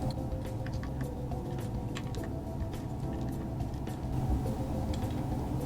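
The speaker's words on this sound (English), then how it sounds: "These number 1 Phillips screws. We'll take those out." Number 1 Phillips screws being backed out of the access cover on an Evanix Air Speed air rifle, heard as faint, scattered creaks and small metallic ticks over a steady low background hum.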